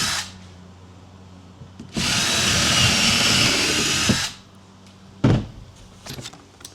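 A power drill drives long screws into a board for a race ramp build, with one loud sustained burst of a couple of seconds, then a short sharp knock and some lighter handling noises close by.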